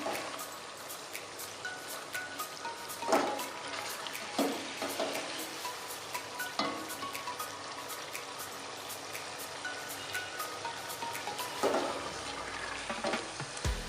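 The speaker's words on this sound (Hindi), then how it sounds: "थोड़ी देर भूनना है हमने इसे।" Chicken fries in a pan for haleem with a steady broadband sizzle, broken by several sharp spatula scrapes and clatters at irregular intervals; no one speaks.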